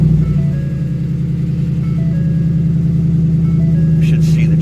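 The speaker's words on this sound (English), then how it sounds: "So we start the truck up." A Ford F150 pickup truck engine turns over with a brief thump, then settles into a steady, loud, close idle hum, with faint dashboard chimes near the end.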